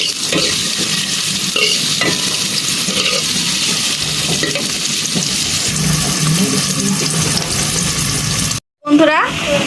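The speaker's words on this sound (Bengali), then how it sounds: "পেঁয়াজগুলো একদম ভাজা ভাজা হয়ে গেছে" Onions fry in hot oil in a cooking pot, a loud continuous sizzle with occasional stirring scrapes nearby, cut by a brief pause near the end.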